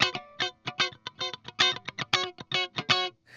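A PC1 Claro Walnut electric guitar with a DiMarzio Fast Track pickup plays a quick run of staccato, distorted notes in a choppy, rhythmic pattern, loud and close, with no voices.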